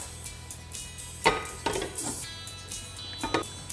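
A lid is set down on a cooking pot over a low flame, with a few close metallic clinks and knocks against quiet kitchen background.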